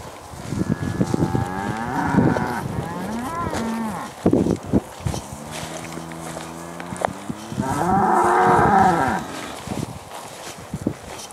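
Grazing cattle on a long-term ley in summer give several drawn-out moos, some near and loud and others fainter, separated by pauses filled with outdoor rustle and brief knocks.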